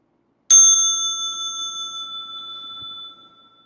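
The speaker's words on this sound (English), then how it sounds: "inviting the bell for stretching and massage." A meditation bell struck once during a mindful breathing practice, ringing out clear and alone with a bright attack and a long, pure, sustained tone that slowly decays over several seconds in a quiet room.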